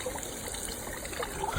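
Water trickles steadily into a small koi pond filter, a continuous close burble and splash with no break.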